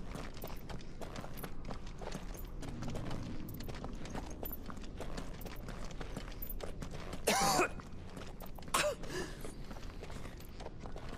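A character in Final Fantasy XVI coughs in two short, harsh bursts over a low ambient game backdrop, with no talking around them.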